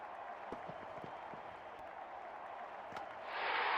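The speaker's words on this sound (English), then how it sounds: "Crowd going mad here." A stadium crowd in a cricket video game, a steady low roar of spectators with scattered claps that swells into louder cheering and applause at the end.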